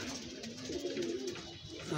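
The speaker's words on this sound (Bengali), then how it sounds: "এখানে কিছু পুরানো কবুতর," Older domestic pigeons in a loft coo softly with low, wavering calls against a continuous background murmur.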